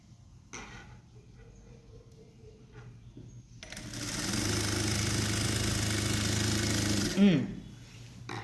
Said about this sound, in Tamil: ஒரு தையல் நம்ம ஓட்டியாச்சு.